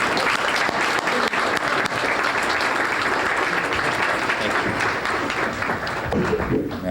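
Sustained applause from an audience at a 1987 State of the City address greets the mayor, a dense, steady wash of many hands clapping that holds strong throughout.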